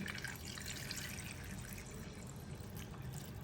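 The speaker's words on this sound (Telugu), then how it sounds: "ఇప్పుడు నీళ్లు పోస్తున్నావా నీళ్లు పోస్తున్నాను" Water pours steadily into a pot, a continuous close splashing rush with no break and no voices.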